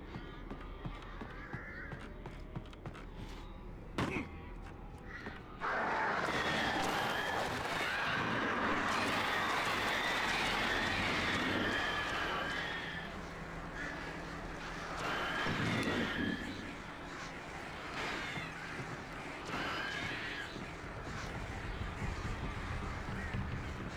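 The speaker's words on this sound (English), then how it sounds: "Birds, dude." Birds cawing in the video game Alan Wake Remastered, a few harsh calls scattered over a dense, steady wash of in-game ambience, with faint voices in the mix.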